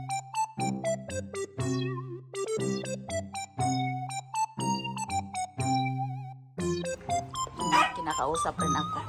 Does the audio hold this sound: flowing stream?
no